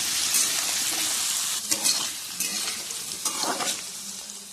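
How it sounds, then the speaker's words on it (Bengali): Potatoes frying in white oil in a pan, a steady close sizzle with occasional stirring scrapes and brief louder bursts of spitting, no voices. "সাদা তেল দিয়েই ভাজলাম"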